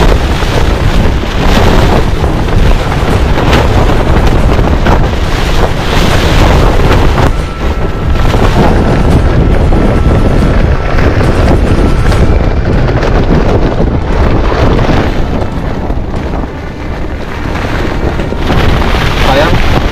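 Strong super typhoon wind batters an outdoor motocamping spot on the coast, loud roaring gusts buffeting the microphone continuously, with turbulent rumble throughout and a few brief lulls.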